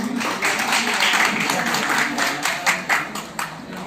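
Audience clapping at a Panasonic Anchor fans dealers meet, a steady round of applause from a crowd in a hall lasting a few seconds, with a voice talking over it.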